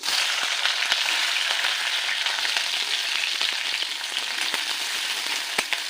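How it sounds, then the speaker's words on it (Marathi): Green chillies fry in hot oil in a wok, giving a steady, loud, close sizzle with dense crackling and scattered sharp pops throughout, with no voices. "आपलं तेल तापलेलं आहे यामध्ये आपण मिरची टाकून घ्यायची"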